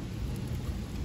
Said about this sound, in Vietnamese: mưa rồi